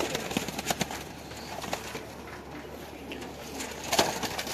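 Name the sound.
pigeons cooing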